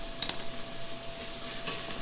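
Vegetables sizzling in a hot pan as they are stirred, a continuous close frying hiss with a couple of brief scraping clinks from the utensil, no voices.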